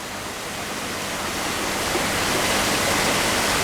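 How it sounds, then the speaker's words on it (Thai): A waterfall at a small garden beside an Amazon café roars in an unbroken, even wash of falling water, close and loud, with no talking. "สำหรับคนรักธรรมชาติแค่ได้ยินเสียงน้ำตกแค่นี้ก็มีความสุขมากแล้วล่ะ"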